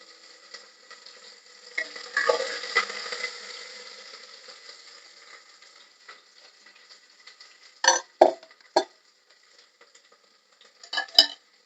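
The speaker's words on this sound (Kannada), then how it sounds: "ಈಗ ಅದು ಚೆನ್ನಾಗಿ ಫ್ರೈ ಆಗ್ಲಿ." Onion, garlic and curry leaves fry in a pan with a soft crackling sizzle that fades, then a few sharp clatters of stirring against the pan.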